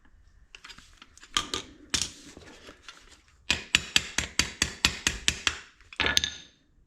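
Pliers squeeze and bend the retainer ears of a rear drum brake shoe on a Nissan Versa, producing a quick run of about ten sharp metallic clicks and taps close up, with a few scattered knocks before and after.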